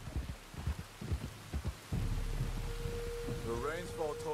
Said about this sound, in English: The rain makes everything but look so cool in this game.